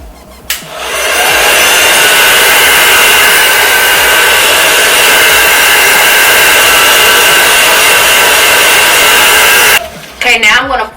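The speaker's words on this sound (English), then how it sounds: "Then I'm going to blow dry that a little bit more" A hair dryer blows steadily and loudly on a lace frontal wig for about nine seconds, starting abruptly after a short pause and cutting off near the end, followed by brief handling noises.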